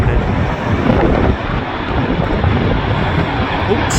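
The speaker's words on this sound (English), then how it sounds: "Oh, we've got a Ryanair coming in." A Ryanair airliner on approach to land at Manchester Airport roars loudly and steadily nearby, its engine noise mixed with wind buffeting the microphone.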